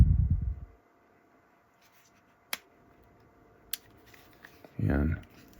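A zip tie fitted on the bridge of a pair of glasses is clipped, giving two sharp isolated snaps in a quiet room, framed by brief low handling thumps.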